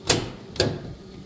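Two sharp mechanical clicks about half a second apart, close and fairly quiet, from the wait-to-start relay on an International 7.3 IDI diesel in a crew cab truck that won't start. No talking.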